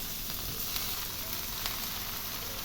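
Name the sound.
vegetables, rice, lentils and spices frying in pot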